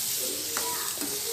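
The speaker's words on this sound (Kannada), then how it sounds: "ಕೆಂಪು ಮೆಣಸಿನ ಪುಡಿ ಹಾಕಿ ಚೆನ್ನಾಗಿ ಹುರ್ಕೋತೇನೆ" A fried mixture roasts in a pan with red chili powder, giving a steady close hiss of sizzling with a couple of faint stirring scrapes.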